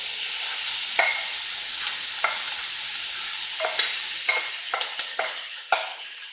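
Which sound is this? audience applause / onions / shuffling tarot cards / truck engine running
onions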